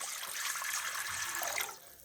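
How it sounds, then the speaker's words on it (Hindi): Water pours steadily into a cooking pot on a home kitchen stove, about four cups for boiling rice, a continuous soft splashing rush that tapers off at the end. "और इसमें मैं तकरीबन 4 कप के करीब इसमें मैं पानी ऐड करूँगी।"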